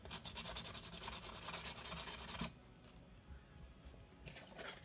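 Sheets of 220 grit sandpaper rub against a Halloween clown prop in quick back-and-forth strokes, fairly close and quiet, pausing briefly midway before starting again.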